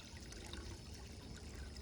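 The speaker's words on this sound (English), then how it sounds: "You can see the water trickling back in." Water from a VEVOR classic hand pump trickles into a bucket in a garden. The flow is a faint, steady, continuous pour with no voices over it.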